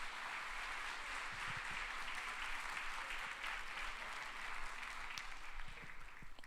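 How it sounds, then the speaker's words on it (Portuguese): A church congregation applauds during a sermon, producing continuous, even clapping from a large group for several seconds at a moderate distance. "Você pode aplaudir a Jesus?"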